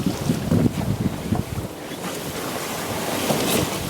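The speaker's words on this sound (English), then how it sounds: "Sailing in the Caribbean." A sailboat under way on the open Caribbean Sea en route to San Juan, with steady wind rushing over the microphone and waves washing and slapping against the hull, surging louder in the first second and a half before settling into a continuous roar.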